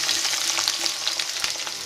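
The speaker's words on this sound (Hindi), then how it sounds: "हम सबसे पहले हल्का सा अपने लहसुन को और मिर्ची को फ्राई कर लेंगे" Garlic and chilli fry in smoking-hot mustard oil for a garlic, chilli and ginger pickle, giving a close, dense, continuous sizzle with faint crackles and no talk.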